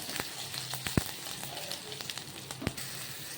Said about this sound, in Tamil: எண்ணெய் காஞ்சதும் கடுகு உளுந்து போட்டு தாளிச்சுக்கலாம்